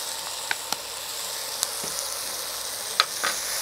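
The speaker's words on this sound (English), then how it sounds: "And give that a stir." King prawns with tomato ketchup sizzle steadily in a frying pan while being stirred, a soft constant hiss with occasional light clicks of the utensil against the pan, no voices.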